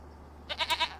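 Goats in the Farming Simulator 25 game give a short, wavering bleat of three or four quick pulses after a moment of quiet ambience.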